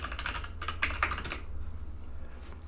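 Rapid keystrokes on a computer keyboard, clattering in a quick burst for about a second and a half before trailing off into a quiet room hum.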